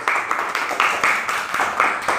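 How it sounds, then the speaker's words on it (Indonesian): A class of schoolchildren claps hands together in an Indonesian primary classroom during a teaching practice lesson. The clapping is brisk, close and continuous for about two seconds, with uneven bursts and no talking over it. "Saya tepuk tangan semuanya."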